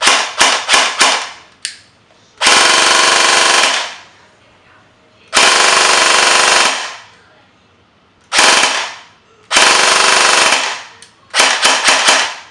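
An airsoft AEG, its motor just cleaned in an ultrasonic cleaner, fires in loud close bursts of rapid full-auto buzzing, broken by quick single and double shots with short silences between.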